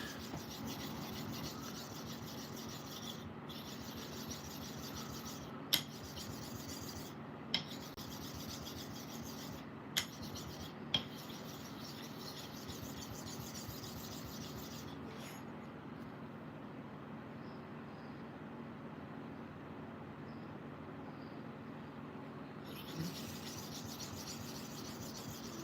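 A razor honed on a very hard sharpening stone, steady soft rubbing strokes running continuously with a few sharp ticks and brief pauses, close and fairly quiet, with no talking.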